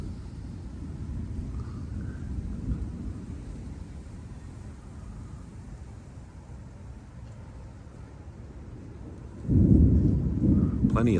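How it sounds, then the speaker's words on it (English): Thunder from a Florida summer thunderstorm rumbles low and distant for several seconds, then a louder, closer rolling crack swells near the end. "Plenty of thunder rumbling."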